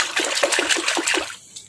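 Running water splashes and trickles steadily as toys are rinsed, a close, loud rush with small rhythmic splatters that trails off at the end.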